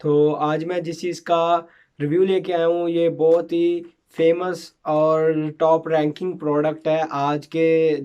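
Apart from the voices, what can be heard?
No everyday noise stands out behind the speech.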